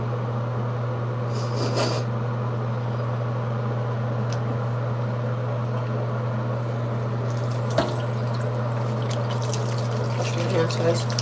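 A tap runs steadily while hands are washed at a sink, a continuous even wash of water over a low electrical hum, with faint voices in the background.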